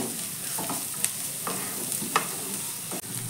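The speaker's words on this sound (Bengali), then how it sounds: "আর বাঁধাকপিটাকেও এখানে আমি 6-7 সেকেন্ড মতো একটু ভেজে নেব।" Finely shredded cabbage frying briefly in a pan, a steady sizzle with a few spoon scrapes and clicks nearby, no speech.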